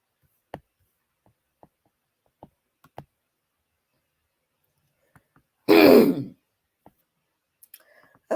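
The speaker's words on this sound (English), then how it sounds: "please forgive me for clearing my throat" A single throat clearing from a man with a sore throat, one short harsh burst near the middle of a quiet stretch, surrounded by faint scattered clicks and small mouth noises, with no speech.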